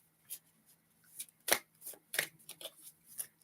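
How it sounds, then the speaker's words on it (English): Tarot cards are shuffled up close, a run of crisp, irregular riffles and slaps with sharp bursts, fairly quiet against a still background. "Okay, just want to shuffle these cards."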